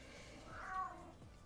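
A cat meows once, faint and slightly distant, with a rising-falling call set against quiet room background.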